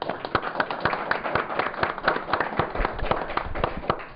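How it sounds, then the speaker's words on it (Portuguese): An audience bursts into applause after a union TV interview with a political candidate, a steady dense patter of many hands clapping throughout, fairly loud and close, with no talking over it. "Acho que uma salva de palmas agora."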